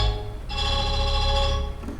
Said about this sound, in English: So you've got a xylophone,